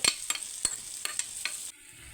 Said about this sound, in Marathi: मी साधारण एक चमचा तूप घेतलेला आहे आता हे तळलेले ड्रायफ्रूट्स याच्यामध्ये टाकून घेऊया